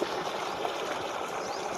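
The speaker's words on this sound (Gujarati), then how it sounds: "જો હવે પાણી આવી ગયું છે" Water rushes steadily into an irrigation channel in a farm field, a continuous close, full gurgling flow with no talk.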